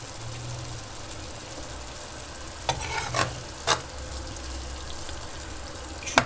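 Vegetables frying with tomatoes in a pan give a steady low sizzle. A few brief clattering stirs of a utensil against the pan rise above it.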